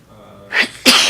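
A sharp, close human sneeze in a board of education meeting room: a quick inhaled catch followed by a loud explosive burst.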